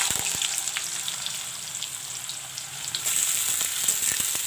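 Potatoes fry with panch phoran in hot oil for aloo postu, a steady close sizzle with scattered crackles and pops that grows slightly louder toward the end.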